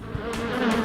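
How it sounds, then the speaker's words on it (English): A bee buzzes in a close, steady drone for under a second, with no voices. "A bee makes a buzz sound."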